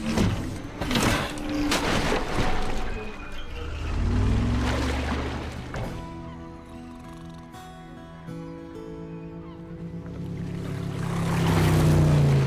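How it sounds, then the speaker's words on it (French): In a children's animated boat series, a boat engine revs up and roars through water, with sweeping rising and falling tones and sloshing waves, alongside musical score and other effects. "Quand Yotti la classe sort ses griffes et fait vrombir le moteur, c'est sûr, ça fait des vagues"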